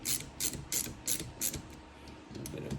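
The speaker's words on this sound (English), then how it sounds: "And then we will tighten these down just a little bit. A little bit on each side." A ratchet wrench snugging down bolts on a Baja build, five quick evenly spaced clicking bursts close up, followed by a few fainter clicks, with no talk.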